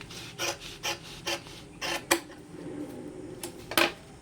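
A fabric piece for a shopping bag is cut along a ruled line, giving a string of soft rasping scissor snips in short regular bursts, close and fairly quiet, with no talking.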